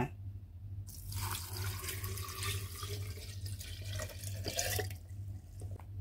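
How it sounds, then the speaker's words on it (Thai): Syrup pours steadily into a glass jar for several seconds, a continuous splashing trickle that stops near the end, over a low hum. "ในขั้นตอนนี้เราจะเทน้ำเชื่อมลงไปในโหลเลยค่ะ"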